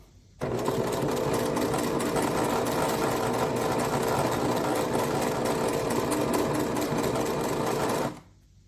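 A Singer sewing machine runs continuously and loudly for about eight seconds, stitching appliqué on a double wedding ring quilt, then stops abruptly.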